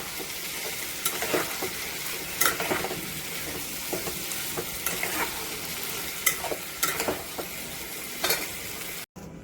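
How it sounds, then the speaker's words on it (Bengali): Boiled chickpeas and scrambled egg being stirred together in a hot pan. A spoon scrapes and clinks in repeated strokes over a soft, constant sizzle, close by and moderately quiet. "এবার সমস্ত উপকরণগুলো একসঙ্গে ভালো করে এটার সঙ্গে মেশাবো।"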